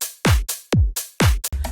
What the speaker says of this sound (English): we've obviously got our kick, clap, and our hi-hat together that sounds like this